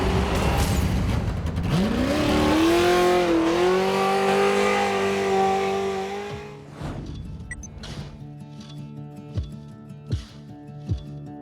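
Race trucks on spiked tires charging around an icy course, one engine revving loudly and climbing in pitch as it passes close by, then fading while sharp bursts of other engine sounds and spray follow in the distance.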